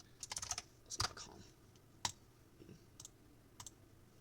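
Keystrokes on a computer keyboard come in short bursts of clicks with pauses between, fairly close and moderately loud, with no voices.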